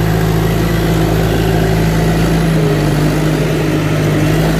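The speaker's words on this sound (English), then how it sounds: "He calls it his little dozer." A small bulldozer's engine drones loud and close at a constant idle, with a deep low hum and no voices.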